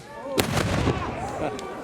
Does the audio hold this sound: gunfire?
yes